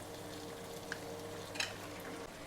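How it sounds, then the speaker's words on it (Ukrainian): Minced meat sizzling in a frying pan, a steady soft hiss throughout with a couple of faint clinks of a utensil against the pan. "Добавляю фарш."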